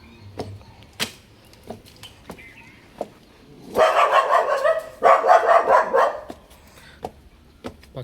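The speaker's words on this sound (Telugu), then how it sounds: "పక్కింట్లో డాగ్ ఉందండి" A dog at the neighbouring house in a gated community barks in a loud, rapid flurry after a few scattered sharp knocks, then falls quiet again.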